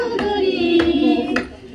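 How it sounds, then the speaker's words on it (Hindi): Hand clapping close to a microphone at a tea garden, a few soft, slightly muffled claps over a low background murmur. "जरा देखिए एक बार फिर ताली की आवाज।"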